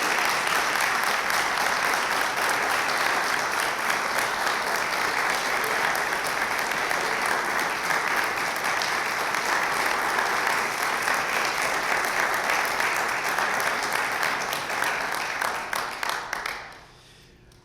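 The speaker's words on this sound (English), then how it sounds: "Could we get one more round of applause for our wonderful award recipients this evening?" Long, sustained audience applause for award recipients at a college awards evening, steady and full for most of the time before fading out abruptly near the end.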